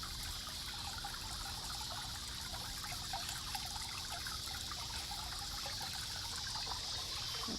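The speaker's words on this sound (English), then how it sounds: "I love the sound of water." Steady trickling water in a garden pond, a continuous gentle splash and babble with no pauses, even in loudness throughout.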